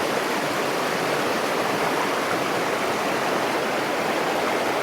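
Creek water rushing steadily through rapids at an old spillway, a loud, continuous broadband roar filling the whole clip with no voices.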